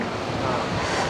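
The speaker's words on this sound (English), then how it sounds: "there is the waterfall." Athirapally waterfall in Kerala roars as a dense, continuous rush of falling water, loud and steady without a break.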